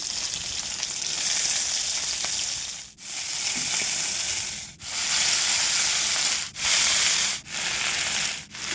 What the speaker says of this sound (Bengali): ফোড়ন দিয়ে দিলাম তেজপাতা জিরা ফুলকপিটা আগে ভেজে